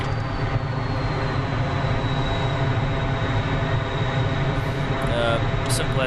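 Steady, loud whine and rumble of an F-14's jet engines idling and taxiing on the ground in a flight simulator, a constant tonal drone throughout with faint instructional speech over it.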